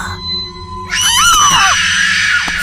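A woman's shrill, sustained scream rises and wavers loudly for about two seconds, close and dramatic, over a low droning background in a horror story.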